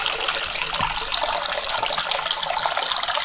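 Hot water runs steadily from a tap in a continuous, even hiss and splash at close range, with no voices.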